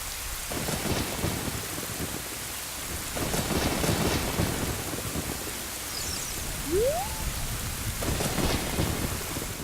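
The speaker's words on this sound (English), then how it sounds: "Like how rain is falling right there on the hole." Steady rain falls in the video game The Legend of Zelda: Ocarina of Time, a constant hiss with low rumbling swells and a short rising tonal chime near the end, no talk.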